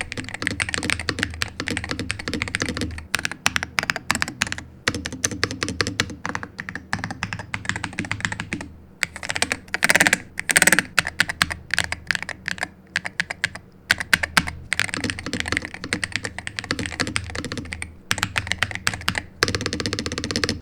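An Aula Hero68 HE mechanical keyboard is typed on steadily at close range, producing a dense run of loud clacky keystrokes with a few brief pauses.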